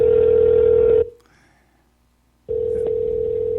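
A telephone ringing on a call produces two loud, steady ringback tones. A silent gap of about a second and a half separates them, and the second tone begins sharply.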